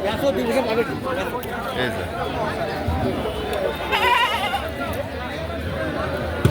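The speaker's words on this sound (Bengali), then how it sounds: "অনেক ছাগল আছে" Goats bleat intermittently at the Tebaria livestock market in Natore amid a busy crowd of chattering voices, with people talking nearby throughout.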